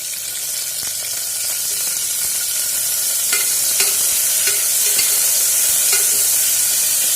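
Onions and tomatoes sauté in a hot pan with a steady bright sizzle, interrupted every second or so by the scrape of a spoon stirring, no talk.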